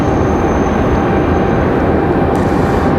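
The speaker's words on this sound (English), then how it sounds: "There we go, Endeavor from Austin, finally touching down" An Endeavor Air airliner arriving from Austin touches down on a crosswind-prone runway at Raleigh-Durham airport, a steady loud broadband jet roar heard from a distance with no speech.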